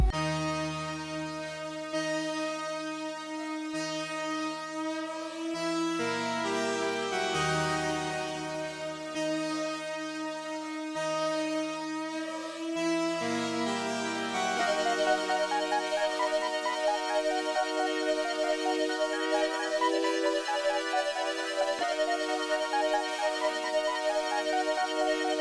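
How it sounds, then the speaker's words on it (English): Layered synth top melodies in a beat: shifting bass notes under bright, stacked chords and a twinkling lead line joining midway, playing steadily and clearly without vocals. "together the top melodies sound like this for the first drop."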